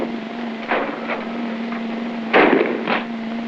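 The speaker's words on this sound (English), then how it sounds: "That means there's firing going on." Shotguns fire on a military skeet range in 1943 wartime film sound, with a few muffled reports spaced unevenly over a steady hum, two of them close together near the end.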